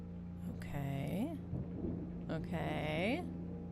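Thunder rumbles through the atmospheric soundscape of the video game Blue Prince, two rolling swells of low rumble with a rising tonal sweep, moderately loud and steady, with no talk over it.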